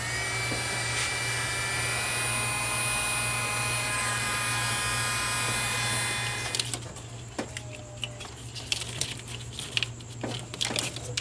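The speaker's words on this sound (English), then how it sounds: "I really like this DeWalt heat gun." Portable DeWalt heat gun running steadily with a loud whirring fan drone and hum for about six seconds, then cutting to quieter clicks and scattered handling knocks nearby.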